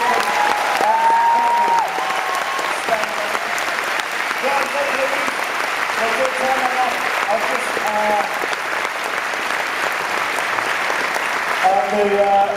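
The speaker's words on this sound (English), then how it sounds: "So let's have a round of applause for two of the scientists" A lecture audience applauds two scientists at an Uncaged Monkeys science show, with steady, sustained clapping filling the whole stretch at fairly close range and brief voice-like tones drifting through it.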